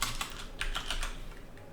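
Quick bursts of keystrokes on a computer keyboard, close and clear, a handful of crisp clicks in an uneven rhythm that trail off toward the end.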